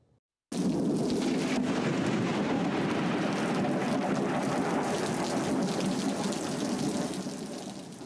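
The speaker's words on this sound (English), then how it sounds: "that's the storms that we heard moving through Louisiana" A thunderstorm with heavy rain sweeps through during flash flooding in Louisiana, a loud, steady roar of downpour and rumbling thunder that starts abruptly and continues without talk.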